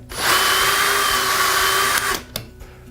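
A power drill bores pocket holes through a pocket hole jig in a woodworking shop: a loud, continuous high whir for about two seconds, then it spins down, followed by a faint click.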